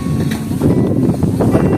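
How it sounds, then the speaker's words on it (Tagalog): Strong wind buffets the microphone in a continuous low roar, steady and loud throughout the short stretch with no voices. "Yun ang lakas ng hangin guys."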